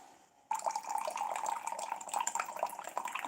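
Tea pours steadily into a cup at close range, starting abruptly and running as a continuous trickling splash for about three seconds, with no talking.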